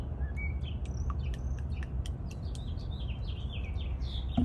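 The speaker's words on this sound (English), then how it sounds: "Birds are out shining today." Birds chirp and tweet outdoors in a quick series of bright, high calls over a steady low rumble of background noise, with no talk.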